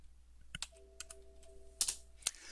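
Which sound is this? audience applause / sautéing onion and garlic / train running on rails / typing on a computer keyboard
typing on a computer keyboard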